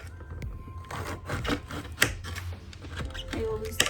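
A knife cuts through red snapper fish on a board, giving a few irregular thuds and clicks up close, with faint handling noises between strokes.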